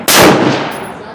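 One sharp, loud rifle report from a round of Hornady SST ammunition aimed at a target, followed by a fading reverberant tail, heard alone.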